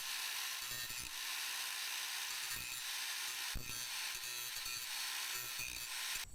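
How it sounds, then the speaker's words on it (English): An angle grinder works down a metal stud on a CFMoto ZForce front brush guard, a continuous harsh high-pitched grinding close by, broken by a few short bursts and pauses where the tool shifts against the metal. "That took a lot of grinding."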